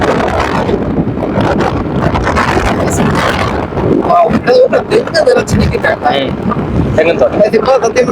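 Strong wind buffets the microphone in loud, rumbling gusts near Panakudi, Tamil Nadu, with voices talking over it.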